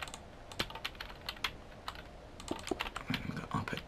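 Rapid clicking on a computer keyboard during Minecraft play, quick irregular keystrokes at low level, sometimes in short bursts, with no talk.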